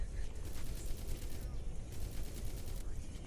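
Rapid gunfire from the Forward Assault video game crackles in quick repeated bursts at moderate volume, with a voice faintly present beneath it.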